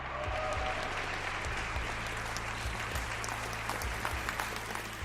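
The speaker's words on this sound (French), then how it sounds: "accueilli par un tonnerre d'applaudissements." Thunderous applause from a large audience greeting a performer on a big stage, dense and continuous clapping that stays steady and full for the whole stretch, with no voices rising above it.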